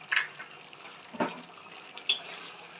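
Mustard oil heats in a pan of pabda fish curry with potato and brinjal, giving a faint, soft sizzle broken by a few sharp clinks of stirring.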